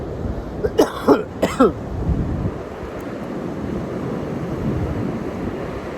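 Two sharp coughs close to the microphone, followed by steady wind rumble and distant surf-like noise.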